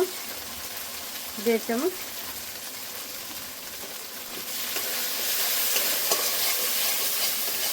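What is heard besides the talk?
frying ground spices in a pan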